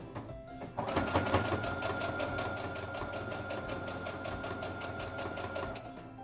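A sewing machine back-stitches a fabric face mask, its rapid, steady mechanical whir kicking in after a brief pause and running on continuously up close, with no talking.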